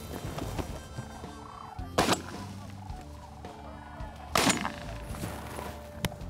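Two loud shotgun blasts a couple of seconds apart during a sandhill crane hunt ring out over a noisy outdoor background with birds calling, plus a sharper click near the end.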